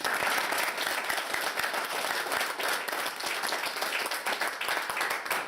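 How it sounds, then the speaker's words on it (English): An audience bursts into sustained, dense clapping as a practice run of applause. Many hands beat fairly evenly at a steady level for several seconds, near and loud. "let's hear you applaud."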